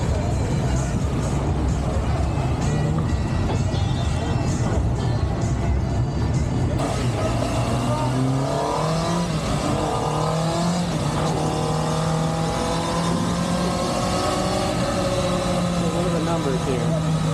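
A Kawasaki ZX10 superbike revs on a dyno, its engine climbing through rising, sweeping pitches after a steady roar, loud and close, with people talking in the background.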